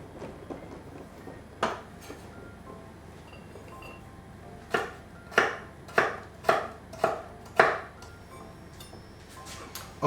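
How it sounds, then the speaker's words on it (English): A knife cuts radishes on a cutting board, giving sharp, distinct chopping taps over a quiet background: a few scattered strikes at first, then a quicker run of about six firm cuts, close and clear. "I'm just gonna cut them in 2 and then I'm gonna make small slices"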